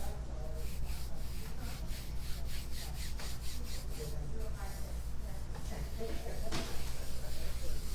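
Paper is rubbed by hand over an inked wood block to pull a print, giving repeated soft scraping strokes in a steady back-and-forth rhythm with a few sharper swipes.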